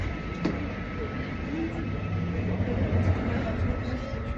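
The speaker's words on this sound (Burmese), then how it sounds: "ကျွန်တော်တို့မြောက်ရထားစီးနေပါပြီ" Steady, low rumbling of a northern-line train heard from inside a carriage, a constant rolling drone with faint rattles throughout and no clear talk.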